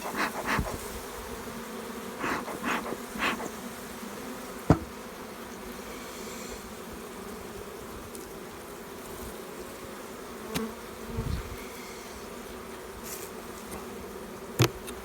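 Bees swarm and buzz steadily around an opened beehive on a sunny day while frames are pulled and checked, a continuous close drone broken by occasional sharp knocks and individual bees zipping past.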